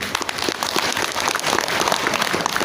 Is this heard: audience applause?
yes